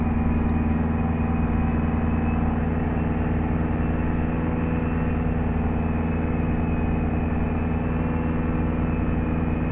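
A Kenworth K100 truck's engine in American Truck Simulator runs steadily at just under 1500 RPM, a continuous droning hum with a rough, knocking edge that holds even and loud throughout.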